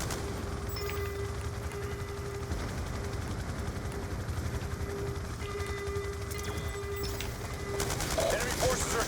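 Gunfire from a Black Ops 2 battle at a forward operating base, with bursts of shots and mechanical clatter over a steady hum, growing louder near the end while voices talk over it.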